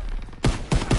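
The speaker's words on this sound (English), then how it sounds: "I just threw a grenade in there!" Grenade blasts in the World War II shooter Call of Duty: WWII come as two loud, heavy booms about a quarter second apart over a low rumbling battlefield background.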